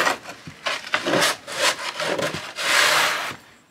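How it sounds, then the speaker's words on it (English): An orange snow shovel scrapes and chops through heavy, wet snow on outdoor stairs, giving repeated loud rasping strokes close by that build into a longer sustained scrape near the end. "So let's try the orange shovel now."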